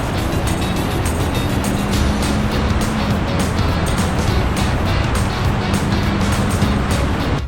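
Nissan Magnite and Kia Sonet SUVs accelerating hard side by side in a drag race, a loud, constant engine and road roar with wind rushing past, close and unbroken.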